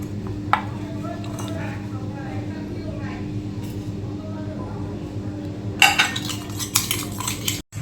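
A spoon stirs cumin, chilli and turmeric powders with water in a bowl, with a light clink early on, then a burst of scraping and clinking toward the end over a steady low hum.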